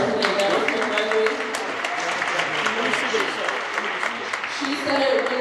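At an NAACP education candidate forum in Newark, an audience gives a steady round of applause, dense clapping sustained throughout with voices audible over it.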